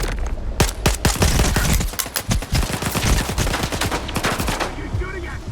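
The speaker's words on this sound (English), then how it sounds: "Are you shooting at something?" Rapid bursts of gunfire from S.T.A.L.K.E.R. 2, a video game, with dense overlapping automatic shots and single cracks crowding together at loud, close range.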